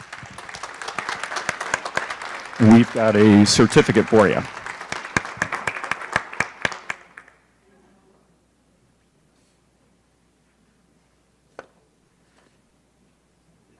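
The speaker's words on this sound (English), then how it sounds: "would you please give them a round of applause?" Audience applause at a city council meeting fills the first seven seconds, dense clapping with a brief spoken line over it, then cuts to near silence with one faint tap later.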